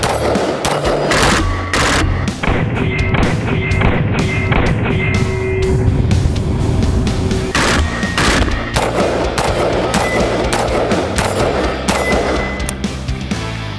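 A short-barreled Daniel Defense Mark 18 rifle fires outdoors in extreme summer heat, unleashing loud, rapid, sustained bursts of gunfire that run almost continuously with sharp cracks and no voices.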